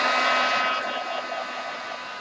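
Heat tool blowing hot air to set mixed media paint, a steady close whirring hiss that holds level for about two seconds with no talking.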